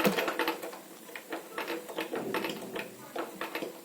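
A normal household sewing machine runs a straight stitch for pico edging, giving off a quiet, even mechanical clatter that pulses in regular bursts, moderately close and with no talking.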